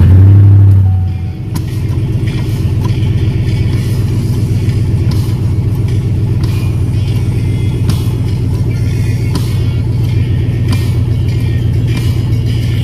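A 2005 Chevrolet Silverado truck engine cranks briefly, then catches and settles into a loud, steady idle with a deep rumbling drone close by, running without pause and with no talking.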